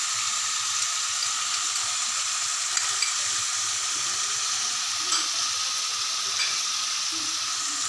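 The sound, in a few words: ginger, garlic and onion frying with spices added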